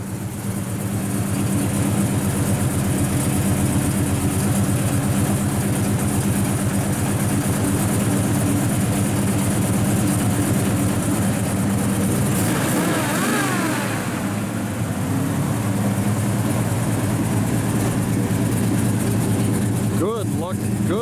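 A 1969 Chevrolet Chevelle SS 396 idles with ceramic coated headers into 2.5-inch dual Flowmaster exhaust, a loud steady rumble throughout with a brief revving swell midway.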